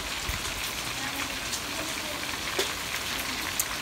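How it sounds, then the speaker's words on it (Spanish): Steady outdoor rain hiss with scattered drops striking surfaces, close and continuous, on a rainy day during a seafood meal of fish, oysters and shrimp. "Qué bonito se ve el clima, está lloviendo."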